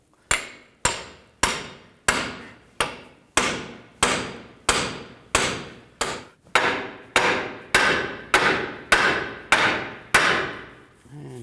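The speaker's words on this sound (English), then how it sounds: "so I'm going to use a pickle fork and try to get it to loosen from the knuckle" A hammer strikes a pickle fork driven between a ball joint and steering knuckle on a 2013-17 Nissan Sentra front suspension, about fifteen loud, evenly spaced metallic blows close up, each ringing briefly before the next.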